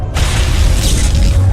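A sabotage power goes off in the Mass Effect video game as a loud, dense burst of booming rumble and noisy hiss, sustained across the moment with no speech over it.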